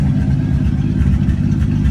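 A turbocharged Chevrolet Nova with a new side-exit exhaust drones loudly and steadily while driving, a continuous low engine rumble with no voices.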